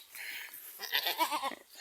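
A goat bleats close by: a soft call followed by a louder, wavering bleat, with nothing else in the background.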